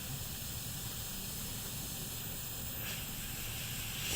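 A spray gun hisses in a steady, continuous stream while painting a model aeroplane, the close airy spray holding level throughout with no voices.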